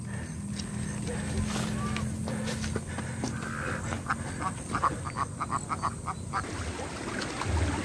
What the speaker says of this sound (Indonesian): bebek yang lucu-lucu.